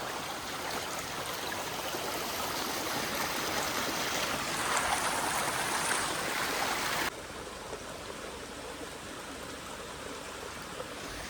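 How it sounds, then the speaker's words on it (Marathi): Rain-swollen stream rushing loudly and steadily, a dense, continuous broadband roar of flowing water close by, without voices. "पाणी बघा किती वाढलंय पर्याला."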